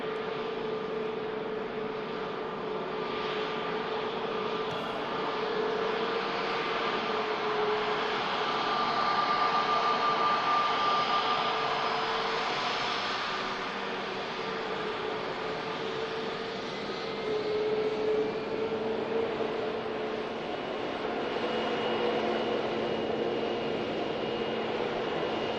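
A Pegasus Airbus A320neo airliner taxis at Manchester Airport, its steady engine whine and broadband roar holding at an even, moderate level throughout, with faint tonal hums layered under the continuous rush.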